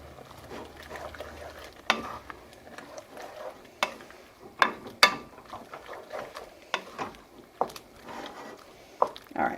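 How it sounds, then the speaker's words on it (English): Sausage browning in a frying pan crackles and sizzles softly, broken by irregular sharp scrapes and clacks of stirring, close and moderately quiet. "we wait on the sausage to finish browning"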